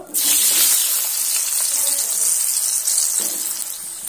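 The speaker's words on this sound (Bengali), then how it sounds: "আলুগুলো তেলের উপরে দিয়ে আলুগুলো সুন্দর করে ভেজে নেব" Diced medium potatoes dropped into hot oil for a pumpkin and potato fry, setting off a loud, close, hissing sizzle that holds steady for several seconds and eases off slightly toward the end.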